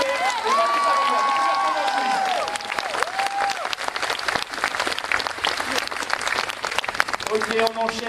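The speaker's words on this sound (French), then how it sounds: "Bah on peut applaudir très fort Mathieu Poggi" A talk show audience applauds guests loudly and continuously, with some cheering, while a voice speaks over the crowd through the opening seconds.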